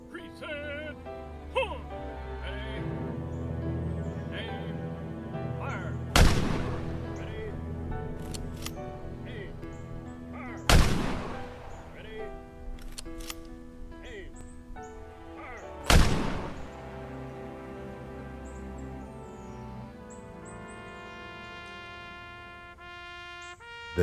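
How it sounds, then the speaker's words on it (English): Three sharp rifle volleys fired by a seven-soldier U.S. Army honor guard at a military funeral, spaced several seconds apart, each a loud crack with a ringing tail over a soft musical background. "7 honor guard soldiers, wearing U.S. Army dress blues, ceremoniously raise their rifles"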